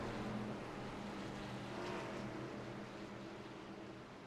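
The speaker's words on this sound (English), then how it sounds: "The pace truck comes in" A pace truck rolls onto an oval race track, a steady, faint engine drone with a broad hum, heard alone at a distance.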